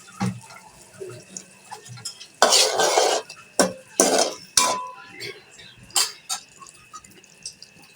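A utensil scrapes and clanks against a cooking pan as spices and bean seeds are stirred, in a run of loud, irregular bursts with quieter gaps between them.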